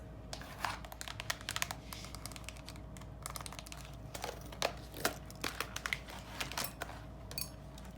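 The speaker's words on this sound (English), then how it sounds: "let's get into stuffing these envelopes" Paper cash bills crinkle and rustle as they are stuffed into budget envelopes, a close, quiet run of crisp rattles and soft taps that carry on steadily with no talking.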